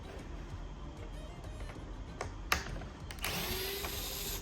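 Tool backing out panhead screws from the power window trim on a second-generation Acura NSX door panel, a quiet whirring and clicking over a low background hum, with a sharper tick midway and louder mechanical buzz near the end.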